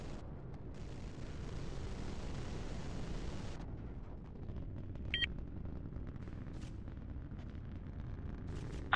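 A missile launches in a video game, a sustained roaring rush of rocket noise that cuts off abruptly, followed by rumbling explosions and a brief electronic beep.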